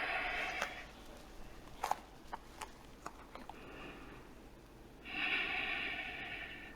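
Audible breaths during a yoga stretch toward the splits: a long airy exhale at the start and another near the end, with faint clicks and sniffs between, quiet and close.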